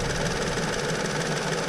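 A brand new engine runs steadily at close range, a constant mechanical hum and rumble with a faint rhythmic pulsing and no voices over it.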